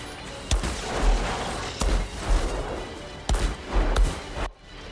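Sharp gunshots crack out at intervals in the shooter game Outriders, four or five bursts over a steady rumbling din of game action, loud and close.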